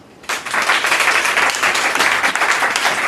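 A church congregation breaks into loud, sustained applause that starts suddenly and fills the space with dense clapping for about three seconds.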